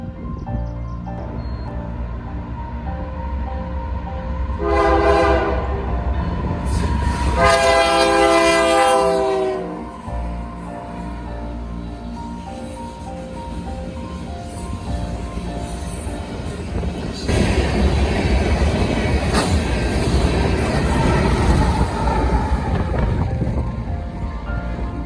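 A CN freight train led by a C6M locomotive rumbles past close by, its horn sounding in several loud blasts over the steady roar and clatter of wheels on rails.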